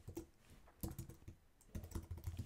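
A computer keyboard being typed on in quick, soft clusters of close keystrokes separated by brief pauses, with no voices.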